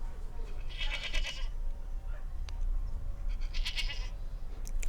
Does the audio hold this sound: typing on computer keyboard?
no